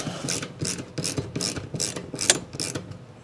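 A ratchet tightening fittings on the fuel lines of a car's gas tank, seven or eight quick rhythmic clicking strokes, close and clear with no voices.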